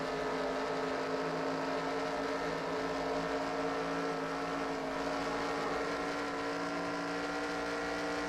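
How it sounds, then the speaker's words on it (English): Race car engine in a racing video game, a steady tonal drone with strong harmonics that hums continuously with slight throttle feathering wavering in pitch, close and constant with no talk. "But you can hear that feathering the throttle"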